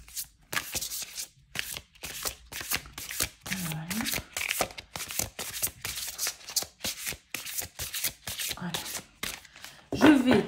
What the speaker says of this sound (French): je vais le mélanger comme ceci